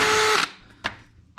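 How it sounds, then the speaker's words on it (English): A power drill whines loudly into metal while drilling holes for front brake line work, then stops, followed by a couple of sharp clanks from nearby. "we have to get into drilling some holes"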